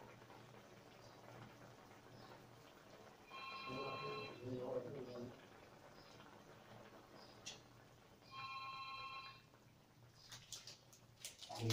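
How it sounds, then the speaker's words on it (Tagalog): A telephone rings indoors in a home kitchen, with two separate bursts of electronic trilling a few seconds apart, moderately loud over quiet room noise and faint cooking sounds. "Sagutin mo muna yung telepono ka."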